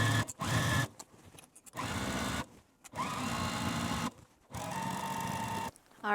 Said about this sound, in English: we're going to take this to our machine and sew around this top edge using a 1/2 inch seam allowance